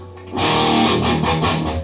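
An electric guitar played through a Boss OS-2 overdrive/distortion pedal rings out in a loud, sustained, gritty chord that starts after a brief quiet moment and holds with a slight pulsing texture, with no talk.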